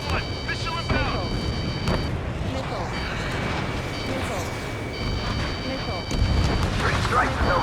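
Low rumbling blasts and booms of an incoming missile strike in Ace Combat 7, with aircraft noise and a heavier explosion near the end, under radio chatter.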